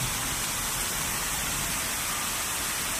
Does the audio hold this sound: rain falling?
yes